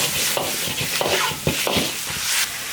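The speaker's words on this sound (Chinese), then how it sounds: "下猪肚爆炒1分钟" Pork tripe stir-fries in a wok with ginger, garlic and peppers, giving a loud, steady sizzle broken by repeated scraping strokes of the spatula, with no talking.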